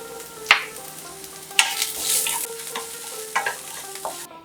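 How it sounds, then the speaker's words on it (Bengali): Chopped garlic frying over a medium to low flame gives a soft, steady sizzle, broken by several sharp scrapes and clinks of a spoon stirring the pan, close by and without talk. "রসুন কুচি 1 table spoon. Medium to low ফ্লেমে 1 মিনিট ভেজে নেব।"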